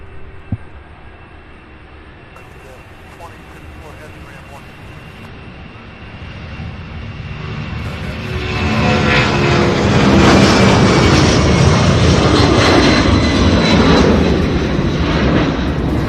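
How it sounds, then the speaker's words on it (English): A jet plane takes off at Louisville International Airport, its engine roar building from a quiet rumble into a loud, broad, sustained thunder as it climbs and retracts its landing gear, with no voices. "Wow, that one getting its gear up"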